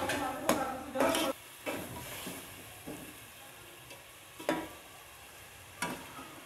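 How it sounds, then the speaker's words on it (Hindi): Potatoes frying in a pan with a steady low sizzle, broken by several louder scraping stirs at irregular intervals; close and moderately quiet, with no talking. "आलू फ्राई हो जाते हैं"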